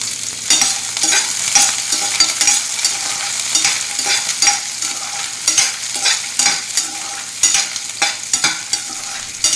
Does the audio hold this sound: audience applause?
no